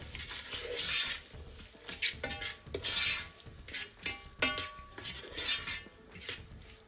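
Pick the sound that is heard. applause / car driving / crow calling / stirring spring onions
stirring spring onions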